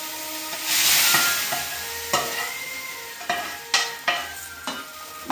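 Talimpu tempering sizzles in a pan for bisi bele bath, with a loud hiss near the start. Sharp clinks of a spoon stirring and scraping against the pan follow, and no one speaks.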